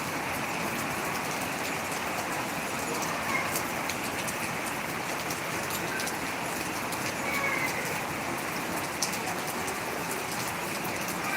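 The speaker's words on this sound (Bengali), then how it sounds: "প্রচুর বৃষ্টি হচ্ছে আমাদের এদিকে মানে ছাড় নেই একটুও ছাড় নেই" Heavy rain falls without pause over a garden of potted plants, a thick, even wash of hiss with scattered louder drops, steady from start to finish.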